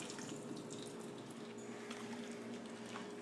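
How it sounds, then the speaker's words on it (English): Cooking water is poured off meat and vegetables in a pot while making homemade gravy, a faint, steady trickle and splash of liquid with small drips throughout. "What I do is I take it and I pour the water off of it."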